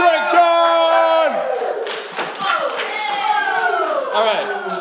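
An audience applauds and cheers for a performer, with loud shouted and sung voices dominating over the crowd noise and clapping throughout.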